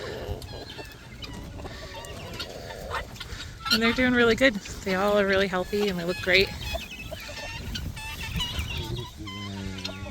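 Chickens cluck and several roosters crow nearby on a farm while a person talks over the flock, with bursts of loud fowl calls throughout.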